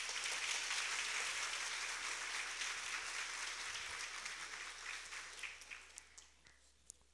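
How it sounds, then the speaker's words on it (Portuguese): An audience applauds at a university graduation ceremony, sustained clapping from a large crowd that thins out toward the end into a few scattered claps. "Queria pedir mais uma salva de palmas."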